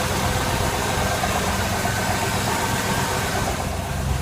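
A boat engine idles steadily after a riser and manifold replacement, a close, continuous low rumble with a busy mechanical clatter and no voices.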